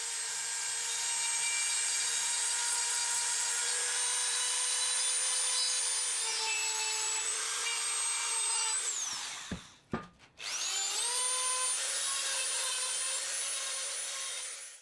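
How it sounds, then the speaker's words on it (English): A Dremel rotary tool rounds over the edges of metal vice parts during a restoration, giving a steady high-pitched whine that holds for about nine seconds, cuts out briefly, then spins back up and continues loud and close. "I just need to round over the edges with a Dremel."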